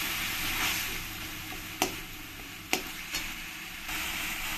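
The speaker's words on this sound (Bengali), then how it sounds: "দিয়ে দেবো 1 চামচ কাঁচা লঙ্কা পেস্ট। দিয়ে ভালো করে একসঙ্গে মিশিয়ে নেব" Coriander-cumin paste and green chili paste being stirred into a shol fish curry in a pan: a steady close sizzle and hiss, broken by a few sharp clicks of the spoon against the pan.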